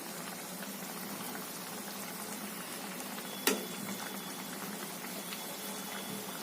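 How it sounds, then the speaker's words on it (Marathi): Spiced water for a brinjal curry boils steadily in a pot, a constant bubbling hiss with one sharp clink partway through, no voices. "आता चांगली उकळी आली."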